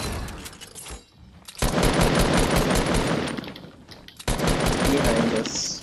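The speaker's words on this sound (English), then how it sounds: "they just shot through my wall" Gunfire shooting through a wall in Fortnite, with loud rapid bursts of automatic shots in two main volleys separated by brief pauses, close and sharp.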